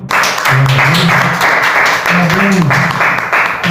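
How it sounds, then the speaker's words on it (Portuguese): A church congregation gives a round of applause, steady clapping heard under a voice that keeps talking and calling out across the stretch. "Vamos dar uma salva de palmas ao Senhor."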